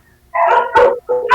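Dog barking indoors in a home, a few short loud barks in quick succession with brief pauses between them, close to the microphone.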